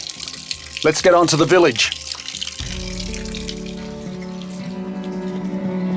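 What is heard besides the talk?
cool mountain spring water flowing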